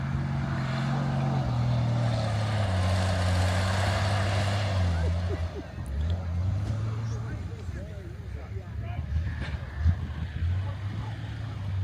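A fire engine drives past at a military show, its low engine drone shifting in pitch and then fading into a rougher rumble, while people talk over it.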